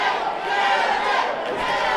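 A boxing crowd roars and yells in support of Kevin Torres during his fight with Santiago Arreola, a dense, loud wash of cheering voices that stays sustained for the whole moment.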